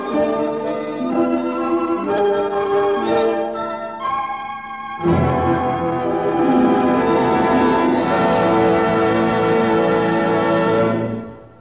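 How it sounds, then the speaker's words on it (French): Several temple bells ring in overlapping, sustained chimes, their tones blending and ringing out before fading at the end. "attirée par le carillon des cloches d'un temple"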